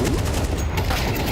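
Gunfire fills a Counter-Strike match, a dense, loud burst of overlapping shots and clatter running through the moment.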